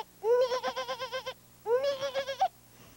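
A person vocally imitates two goats butting each other, producing two loud, quavering bleat-like bursts separated by a short pause, close and alone.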